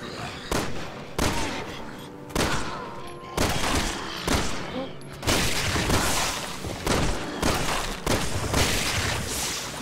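Rapid gunfire from the video game Resident Evil 6, loud repeated bursts of shots about every second with booming impacts, no talk.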